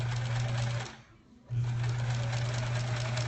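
Sewing machine stitching quilt block pieces for a sampler quilt, a steady close mechanical whir with a strong hum that stops briefly near the middle and then resumes, running alone without talk.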